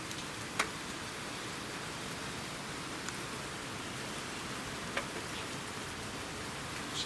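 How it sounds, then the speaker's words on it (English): Steady rain falls on a rainy day, a dense, even hiss of drops with a few slightly louder nearby drips, continuous and moderately faint with no voices. "rainy day."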